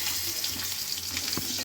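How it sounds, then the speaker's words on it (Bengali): Potatoes for a bhetki fish curry fry in oil, a steady, close sizzle with faint stirring, cut off abruptly at the end. "আমরা ভেটকি মাছের আলুটা ভেজে নেব"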